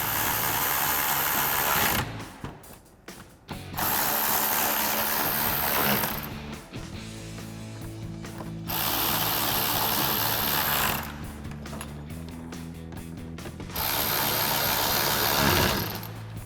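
An electric ratchet with a 5.5mm socket tightening bolts while installing LED halo projector headlights on a 2005-2009 Mustang, several loud buzzing mechanical bursts of about two to three seconds each, separated by short pauses, close up with no talking.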